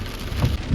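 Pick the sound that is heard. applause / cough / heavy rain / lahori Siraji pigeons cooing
heavy rain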